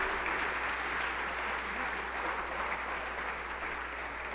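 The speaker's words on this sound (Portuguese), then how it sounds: "Dá uma salva de palmas bem forte ao Senhor Jesus." A church congregation claps loudly and steadily for Jesus during a sermon, a dense, sustained wash of applause with no pauses and no speech.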